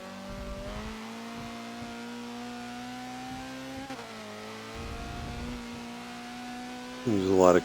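A Honda CRX engine in Forza on the Silverstone International circuit in the rain holds a steady high rev, briefly dropping and climbing again, then surges into a loud rising whine at the end.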